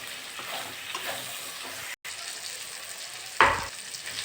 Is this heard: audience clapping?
no